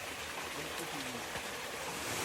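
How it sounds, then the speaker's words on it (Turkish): Water from a small waterfall and stream rushes steadily on a hiking trail, a continuous broadband hiss that stays even throughout, with a faint voice briefly audible under it. "Bu da artık son şelale herhalde."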